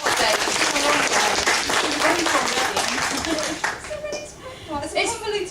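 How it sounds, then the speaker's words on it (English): Audience applause welcoming a speaker from an Earth Sciences department at a museum talk about crocodiles, a dense burst of clapping that thins toward the end, with a voice starting to speak over the tail. "Let's give her a round of applause."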